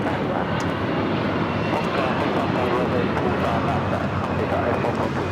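A United Airlines Boeing 757-200 takes off from LAX bound for Newark, its jet engines producing a loud, steady, broadband roar that fills the whole stretch without letup.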